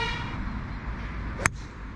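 A single brief car horn toot sounds at a distance near the Mazamet golf course, a short sharp blast that rises over a steady outdoor rumble of wind and ambient noise.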